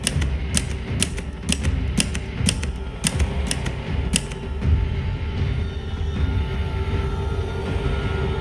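Old typewriter keys clack in a run of sharp, evenly spaced strikes over a dense low rumble, then fade into the steady background.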